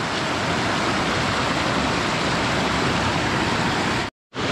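A provincial river rushes and splashes where people bathe, a loud, steady broadband flow heard up close with no talk, cutting out abruptly for a moment just before the end.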